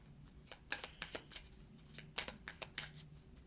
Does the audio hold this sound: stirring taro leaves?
no